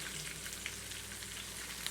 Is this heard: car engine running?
no